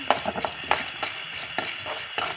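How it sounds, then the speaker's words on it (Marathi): Corn kernels with turmeric being stirred in a pan for homemade popcorn: several clinking scrapes of a utensil against metal at an uneven rhythm, close and moderately loud, over a faint background hiss. "त्याच्यामध्ये मक्याचे दाणे टाकायचे आहेत दाणे थोडे थोडेच टाकायचे आहेत आणि थोडंसं हलवून घ्यायचं आहे"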